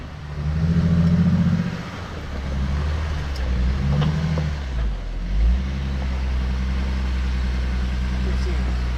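A Jeep engine revs and idles on a rough backcountry trail near Crown King outside Phoenix as the wheels search for traction, a low rumble rising and falling close by with voices talking over it.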